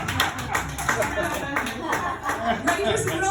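A comedy-show crowd claps for the opening comedian, with steady, fairly close hand clapping and a rhythmic patter of individual claps throughout the short stretch.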